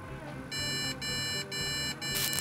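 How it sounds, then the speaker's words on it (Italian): Computer motherboard sounds its POST error code on startup after a motherboard and CPU swap: a string of sharp, loud, evenly spaced electronic beeps close by, with a low fan-like hum underneath. "questi 5 beep segnalano la non presenza, o quindi l'assenza"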